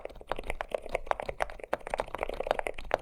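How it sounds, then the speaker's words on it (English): Soft, muted typing on a mechanical keyboard with silent switches, dull thocky keystrokes at a quick steady pace, close by and fairly quiet. "here's that same keyboard in a different color with silent switches."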